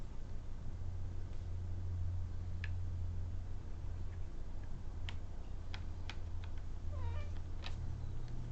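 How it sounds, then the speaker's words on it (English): A pet cat sitting on a desk gives a few short meows amid steady low hum and scattered small ticks, fairly close but not loud, with no talking. "My cat's on my desk right now."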